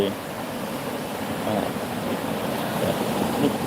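Steady rush of sea surf washing in continuously at the shore, with a breezy, wind-blown texture throughout; no distinct voices stand out.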